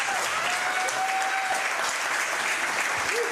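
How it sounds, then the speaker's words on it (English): An audience claps for a coach talk event, a steady wash of applause that holds at an even, moderately loud level for the whole stretch, with a faint voice briefly underneath. "One final time, a round of applause,"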